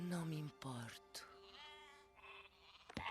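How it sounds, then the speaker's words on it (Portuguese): Cartoon sheep bleat, heard in a Portuguese-dubbed Toy Story 2 scene, with a few quavering cries following dialogue and music, voices speaking around them. "As ovelhas!"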